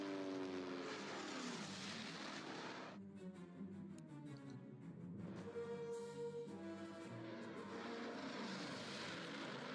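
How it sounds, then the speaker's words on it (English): A propeller scout plane in the war strategy game Order of Battle drones steadily and loudly, its engine pitch sweeping as it passes, with a brief dip before surging again. "Let's see if I get my scout plane to scout."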